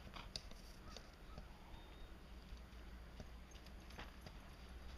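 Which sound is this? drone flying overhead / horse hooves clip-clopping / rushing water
horse hooves clip-clopping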